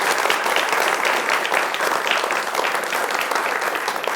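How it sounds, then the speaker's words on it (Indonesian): Sustained, dense applause from a large audience at an Indonesian public forum with university students present, loud and steady throughout with no talk over it. "Tepuk tangannya teman-teman."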